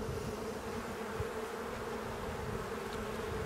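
Honeybees hum continuously inside an opened beehive during a spring visit, a dense, steady drone heard close and fairly faint with no voices.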